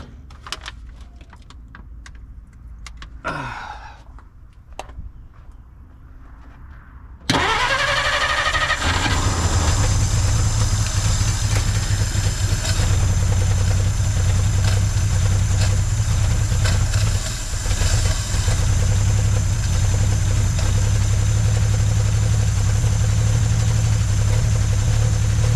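After a few seconds of scattered small noises, the engine of a 1950 Dodge Meadowbrook turns over and catches, then idles loudly and steadily for the rest of the clip.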